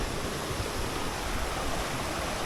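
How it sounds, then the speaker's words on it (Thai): A forest waterfall in Thai jungle pours steadily, a dense, even rush of water close by with no talk over it. "น้ำตกตรงบริเวณนี้ก็ค่อนข้างที่จะ สวยงามอยู่นะครับ"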